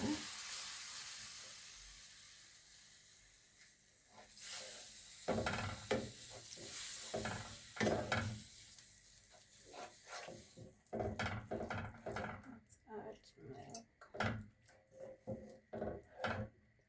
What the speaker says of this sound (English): We'll add our milk and stir.